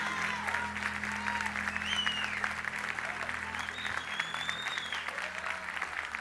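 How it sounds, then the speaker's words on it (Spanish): Church congregation applauding steadily for several seconds during a bilingual sermon, the clapping dense and even with voices murmuring beneath it. "você crê, aplaude ao Rei."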